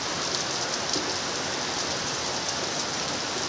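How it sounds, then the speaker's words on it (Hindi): Heavy rain pouring down in a dense, steady hiss, loud and constant throughout, no one speaking. "तो गाइस अभी आप सुन सकते हो कितना भयंकर वाला पानी आया है"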